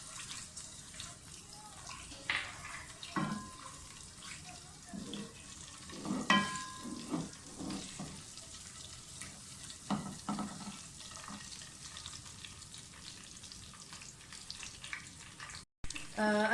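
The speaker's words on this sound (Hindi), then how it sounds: "मैं ज़ीरा और साबुत मसाला पहले डालूँगी ताकि जायका थोड़ा सा अरोमा शामिल हो जाए ऑयल में" Cumin and whole spices sizzle and crackle in hot frying oil for a dhaba-style mixed vegetable dish, a continuous close hiss with scattered pops and occasional stirring clatter.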